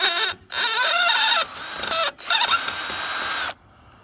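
A power drill whirs in long bursts while driving screws into rotted wood, its pitch rising and dipping with the load, loud and close, with brief pauses between runs.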